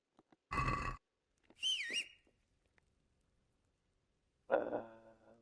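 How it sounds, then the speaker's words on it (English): A character whistles a few short notes inside an abbey in Kingdom Come: Deliverance, first a flat toot and then a rising, warbling phrase, followed after a pause by a lower, breathy tone, all with quiet gaps between. "I just did something bad by whistling inside"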